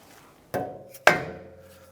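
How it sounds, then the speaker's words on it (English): A rubber hammer strikes the top of a 2007-2013 Acura MDX steering rack twice in succession, each a dull, close knock with a short ringing decay. "If not, we're going to try a rubber hammer on top,"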